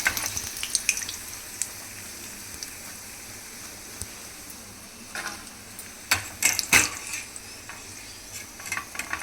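Ragi sandige fry in hot oil, a soft steady sizzle with a few louder bubbling bursts and stirring scrapes later on, no talking.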